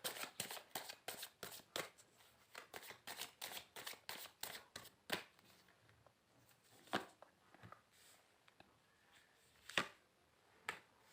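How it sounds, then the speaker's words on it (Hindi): Tarot cards are shuffled in a quick run of crisp riffling slaps through the first five seconds, then a few scattered, slower card flicks and taps, all close and fairly quiet with no talking. "Okay rakhi ji, one more shuffle."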